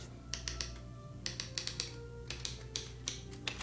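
Typewriter keys strike in short bursts of crisp, sharp clacks, irregular in rhythm, with a steady low hum underneath and no talking.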